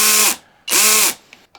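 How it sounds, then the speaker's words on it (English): Flex compact drill with an electronic clutch, two loud whirring bursts of the motor that each cut off abruptly as the clutch disengages, heard close up with a short pause between them. "Let's kind of see, first off, what we can expect from the clutch."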